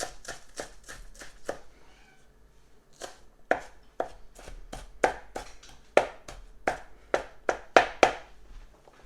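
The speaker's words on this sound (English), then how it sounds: "Cut it very, very thin." A knife on a cutting board slicing vegetables very thin, quick bursts of rapid chopping strokes, a short pause, then a steady run of crisp, evenly spaced cuts, close and clear.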